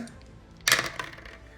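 Three white dice rolled for a shot in the Space Crusade board game clatter briefly across the table, one sharp burst of rattling clicks that fades within about a second.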